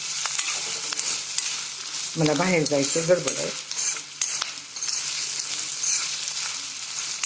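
Potatoes sizzling as they roast and are stirred in an iron pan, with a short stretch of someone talking in the middle.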